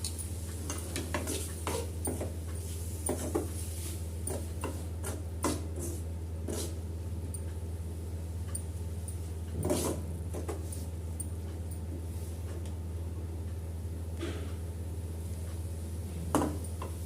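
A spoon stirs shredded pepper chicken curry with curry leaves and ground pepper in a pan, making soft scraping and clinking taps in an irregular rhythm over a steady low hum, with no talk.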